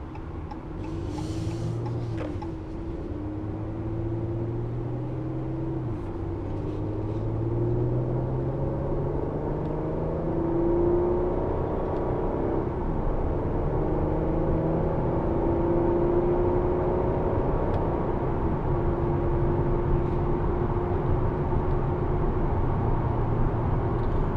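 A 2015 Chrysler 200 S in sport mode cruises in sixth gear at highway speed, its engine a low, steady drone near 2,200 rpm under constant road rumble, with slight shifts in pitch.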